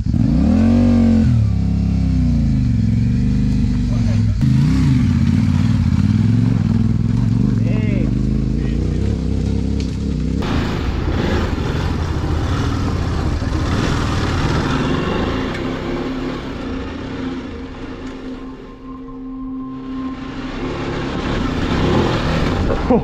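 A Ducati Desert X motorcycle engine starts and revs loudly up close, its roar rising and falling with throttle blips, while people talk over it.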